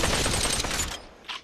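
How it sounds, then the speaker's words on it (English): Rapid automatic gunfire from a gun in the VR game Population One, a loud dense burst that cuts off after about a second, followed by one shorter echoing shot. "So this gun has a little bit of a recoil. You want to put it down as you're shooting."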